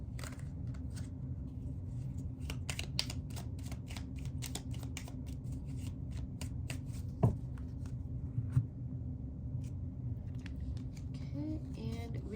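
Moon Magic Oracle cards shuffled by hand in a steady, rapid run of close riffling flicks over a soft background hum, with one or two brief knocks partway through and no speech.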